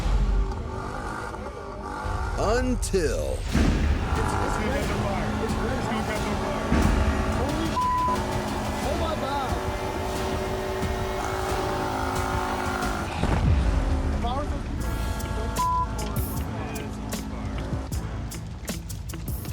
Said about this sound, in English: a neighbor revving the engine of his muscle car